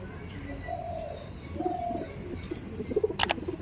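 Madrasi pigeons in a loft give low, soft coos in a few short phrases, with a brief sharper rustle near the end over steady background noise.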